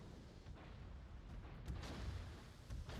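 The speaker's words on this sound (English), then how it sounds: "Shots away on the Izumo again" Battleship main guns firing in a World of Warships naval battle, heavy low booms rumbling under a constant deep engine and sea drone, with several muffled blasts spread across the moment.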